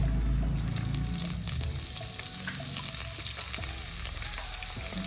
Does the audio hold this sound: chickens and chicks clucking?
no